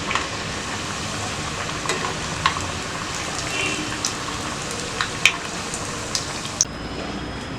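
Mutton cutlets deep fry in hot oil with a dense, constant bubbling sizzle and scattered small pops and crackles, close and steady throughout with no talking.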